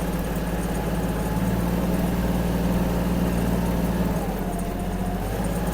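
Kubota GL-21 mini tractor rolls over cobblestones, its small diesel engine giving a steady, close, continuous drone with an even rumble and no voices.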